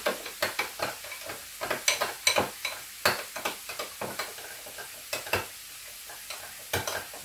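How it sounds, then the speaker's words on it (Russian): A mustard and soy sauce dressing is stirred briskly in a bowl, giving repeated scraping and clinking strokes in an irregular, fairly steady rhythm, close and alone without speech. "И все это мы теперь перемешиваем."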